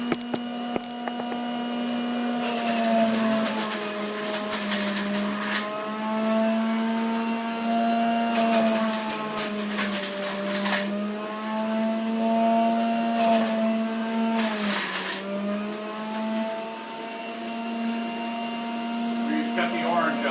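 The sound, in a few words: juicer juicing broccoli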